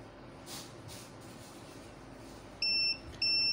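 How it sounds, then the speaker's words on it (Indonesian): A SNADI 1000W 12V DC pure sine wave inverter gives its low-voltage warning as two short, steady electronic beeps near the end, sounding over a faint hum and hiss. "di sini ada indikator berbunyi untuk menandakan settingan batas bawah atau baterai mulai habis ini ya"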